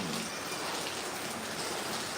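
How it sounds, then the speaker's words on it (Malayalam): Heavy monsoon rain pours down in Kozhikode as a dense, steady, even hiss of countless drops with no pauses and no voices. "എന്താ കോഴിക്കോട് മഴ"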